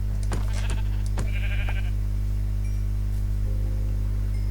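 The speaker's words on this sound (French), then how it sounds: "Ah, le dernier mouton, c'est parfait." Blocky sheep in the Minecraft video game bleat in a few short, quick calls early on, over a steady low hum from the game, then fade to quiet background.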